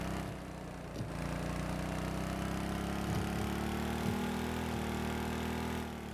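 A 3x3 vehicle engine in a snowy rescue driving video game drones steadily at a high pitch, rising slightly partway through, loud and continuous with no talking.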